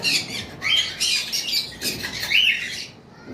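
A breeding pair of cockatiels in a cage gives loud, harsh, repeated squawks and screeches close by, in bursts that overlap with no talk.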